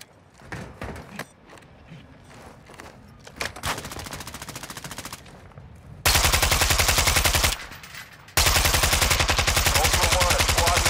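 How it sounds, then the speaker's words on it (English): Automatic gunfire from a Call of Duty DMZ match, starting with scattered single shots and short bursts, then long, loud, rapid machine-gun volleys that stop briefly and resume at full intensity. "You are taking effective fire."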